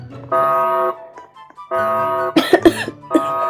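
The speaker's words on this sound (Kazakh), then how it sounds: "Сен жөтеліп қазір бізде білдіріп қойма." Several short, sharp coughs burst out in quick succession near the end, over a steady harmonic alarm-like tone, during a Brookhaven bank-robbery game session.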